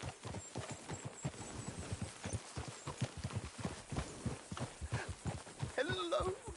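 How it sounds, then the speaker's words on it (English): Horse hooves clip-clopping in a video game, a steady walking rhythm of close, distinct hoofbeats throughout, with a brief whinny or voice near the end. "Get a hold of that horse,"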